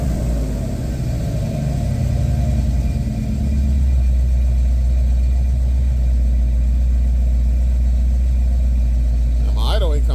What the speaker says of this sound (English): Now my idle ain't coming down very fast.